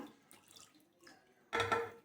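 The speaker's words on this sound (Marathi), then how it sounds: "आता आणखी एकदा आपण याच्यामध्ये छान पाणी टाकू" Water splashes and pours briefly into a pressure cooker holding greens, loud and close, after a quieter stretch of faint clinking.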